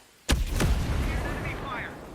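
A grenade blast in a shooter video game: a sudden sharp boom followed by a second burst and a long rumbling tail, loud and close, with a voice speaking over it.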